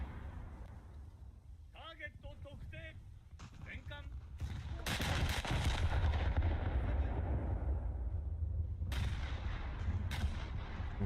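Battleship turret guns fire in War Thunder naval combat, with heavy booming salvos swelling into a long rumbling roar and a sharp later blast, while someone talks over the first seconds.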